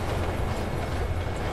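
A train rolls past in the racing game The Crew 2, a loud, dense rumble with steady wheel clatter filling the whole moment, heard close by.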